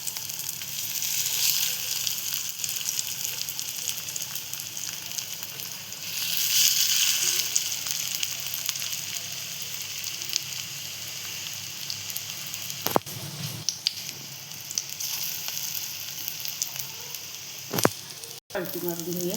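Aloo tikki patties fry in hot oil for a homemade veg burger, giving a continuous bright sizzle that swells and fades, with a few sharp clanks of a utensil near the end.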